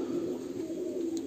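Breeding pigeons in a crowded coop keep up a steady, low cooing drone, close and continuous, with faint rustling underneath.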